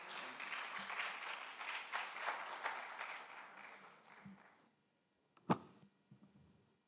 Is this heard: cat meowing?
no